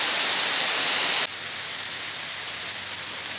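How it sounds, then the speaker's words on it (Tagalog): Steady heavy rain in the Davao Region, a dense hiss that drops abruptly to a softer, lighter downpour partway through and continues evenly, with no voices. "Walang tigil ang ulan dito sa amin halos 4 na araw na."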